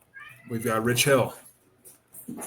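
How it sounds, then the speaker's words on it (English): Pet cats meow in short tonal cries close to the microphone, with someone speaking briefly over them during a baseball podcast recording. "I think you guys can probably hear my cats in the background"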